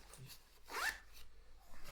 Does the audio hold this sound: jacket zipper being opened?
yes